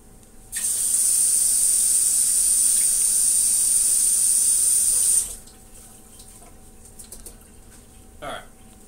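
Parts of a Fluval 407 canister filter are rinsed under a running tap, a loud, steady rush of water that stops abruptly after about five seconds, followed by quieter handling noises.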